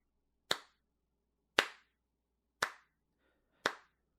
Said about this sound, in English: you hear a slow clap begin